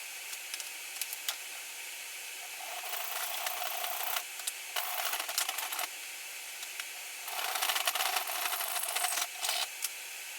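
A length of piano hinge being cut to size with a saw or file gives bursts of rapid, gritty metallic rasping strokes between quieter pauses, close-up and moderately loud over a steady hiss.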